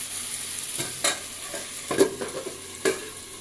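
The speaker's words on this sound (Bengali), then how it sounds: "এরপরে আমি একটু ভালো করে কষে নিলাম।" Chicken curry stir-frying in a pan, a soft steady sizzle broken by a few distinct scraping strokes of a spoon against the pan, close and moderately loud, with no voices.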